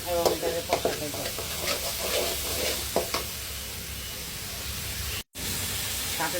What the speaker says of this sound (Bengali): এখানে রসুনটা একটু বেশি কষেছি এবং এটাকে কষাতে যায়।